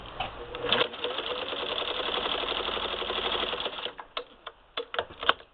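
A Singer 15-91 sewing machine fitted with an antique automatic zigzagger runs in a steady, close mechanical whir for several seconds, then stops, leaving a few sharp clicks and clunks.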